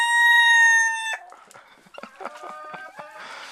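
A rooster in a winter coop crows loudly and close up, one long sustained call, followed by softer clucking and scattered fowl noises.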